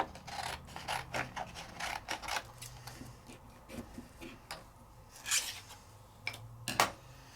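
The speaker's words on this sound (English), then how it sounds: "I'm just going to trim this one down in case I decide to die cut." Scissors trim a piece of paper in a series of short, crisp snips and rustles, close and fairly quiet, spaced irregularly with small handling sounds between cuts and no talking.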